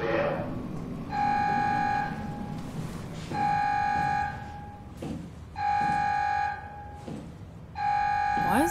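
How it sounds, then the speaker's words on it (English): An alarm in the video game Soma sounds four times as long, steady electronic buzzing tones with gaps between them, while a person talks over and between the blasts against a rumbling, creaking background. "Why is the alarm going off?"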